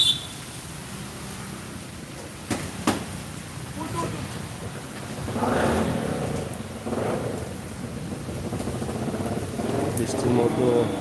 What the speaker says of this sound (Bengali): বাতাস চমকাচ্ছে অনেক বেশি, সা করে শব্দ করছে বাতাস।